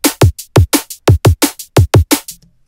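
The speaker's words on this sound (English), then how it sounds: "And on the full drum group, I've gone compressor mad, added another multiband." Full drum group pushed through heavy compression and multiband processing: punchy kick and snare hits in a tight, steady groove, loud, dense and forward, ending with a brief tail.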